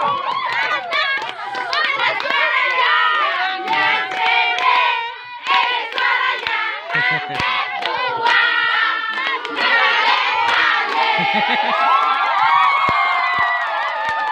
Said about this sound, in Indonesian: Mari kita berikan tepuk tangan.